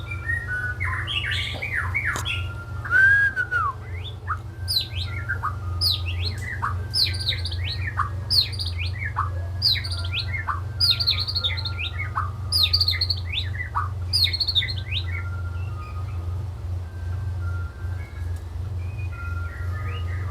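A songbird gives a run of sharp squawks and quick chirps in irregular bursts, close and clear, over a steady low hum.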